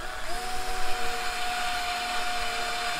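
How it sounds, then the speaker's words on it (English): Steady high-pitched whine of a small drill boring a little hole in a lawn mower drive part, close and continuous for several seconds with no talking. "I just need to drill a little hole"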